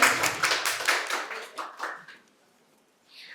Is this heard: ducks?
no